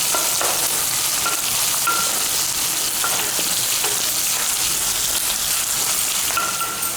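A tempering of ginger and dried red chillies crackling in hot oil for daddojanam curd rice, a loud, dense, unbroken sizzle that sounds like heavy rain, with no voices.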